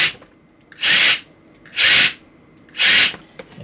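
A HEIXUE handheld brushless mini turbo jet fan, rated at 110,000 RPM, is revved in three short, loud, evenly spaced bursts of hissing high-pitched air, each about a third of a second long, with quiet gaps between them.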